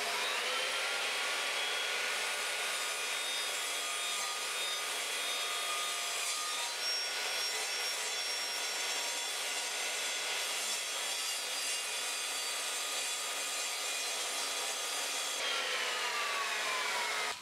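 A circular saw with its blade set to a fixed depth cuts a trench into timber, giving a continuous broadband whirring and grinding roar that holds steady for the whole stretch. No voices are heard.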